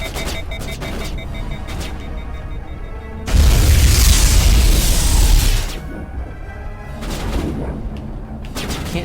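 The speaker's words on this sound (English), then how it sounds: "Oh, that was a shot." A loud gunshot burst rings out in the Mass Effect video game, a heavy booming blast lasting a couple of seconds amid background game sounds.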